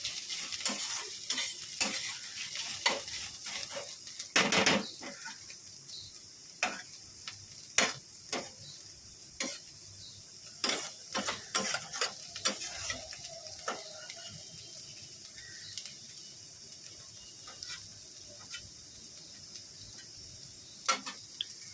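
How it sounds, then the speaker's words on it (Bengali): Snake gourd frying with onions in oil in a pan, a steady faint sizzle broken by many sharp scraping clicks of a spatula stirring, with occasional water sounds in a home kitchen. "একদম লাল লাল করে পেঁয়াজ দিয়ে ভাজ ভাজছি চিচিঙ্গে"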